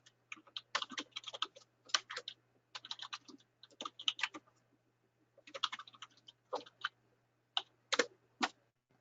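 Fingers type on a computer keyboard in quick irregular bursts of close, crisp key clicks separated by short pauses, over a faint steady hum.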